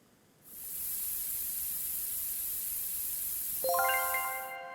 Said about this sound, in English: So give them a nice coat of shiny black spray paint.